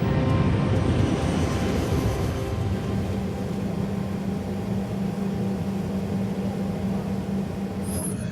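A BAC 111 jet airliner climbing with 81 passengers and 6 crew aboard, a steady, loud, broadband engine roar with a low droning hum, continuous and unchanging throughout.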